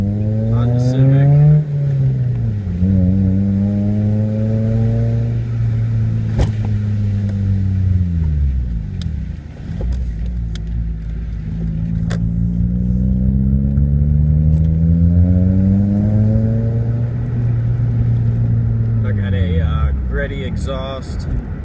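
A 2004 Honda Civic with a catback exhaust and AEM cold air intake accelerates through the gears on a rainy night, loud and close, its engine note rising, dropping at each shift and climbing again in repeated revving sweeps.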